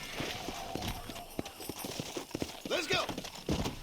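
Rhythmic clip-clop of horse hooves trotting on hard ground in the video game Red Dead Redemption, steady and fairly close, with a brief whinny and someone talking over it.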